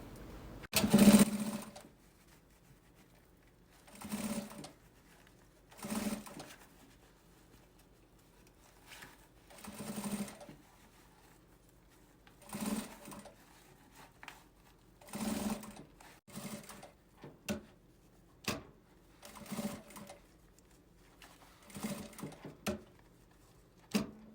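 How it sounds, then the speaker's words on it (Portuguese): A sewing machine stitches the seam of a fabric tongue-style pencil case, running in about a dozen short, close bursts separated by brief pauses. "Começar aqui, fazer a costurinha, aquela costurinha que a gente estabiliza pique com pique."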